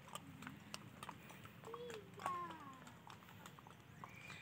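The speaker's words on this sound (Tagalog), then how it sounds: "Ang pangalan ng horse, Sweet Pink" Horse hooves clip-clop in a steady walking rhythm during a ride, moderately close, with scattered bird chirps and a faint voice or two in the background.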